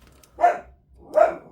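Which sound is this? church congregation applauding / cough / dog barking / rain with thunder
dog barking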